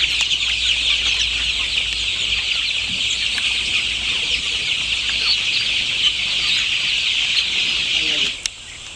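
Dozens of 27-day-old farm chickens cluck and peep together in a constant, close chattering flock that runs almost the whole way before cutting off abruptly near the end.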